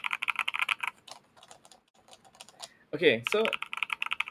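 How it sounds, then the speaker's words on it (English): Rapid, even clatter of keys being typed on an HHKB Topre keyboard and a Poly Panda switch keyboard, close and crisp, with a brief pause where a voice speaks before the typing resumes. "I'm taking out all my keyboards to test against the HHKB."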